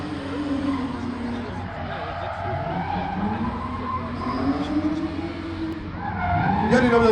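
Tires squeal and skid continuously as a BMW M3 with a 3-litre engine drifts at a motor show, engine revving underneath, with a commentator talking over the noise.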